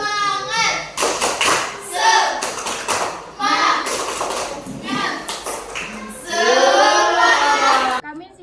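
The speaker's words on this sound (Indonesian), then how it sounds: "Tepuk semangat." High school students doing a rhythmic spirit clap, chanting together in loud voices while hands clap in quick patterned bursts, with a short silence at the end.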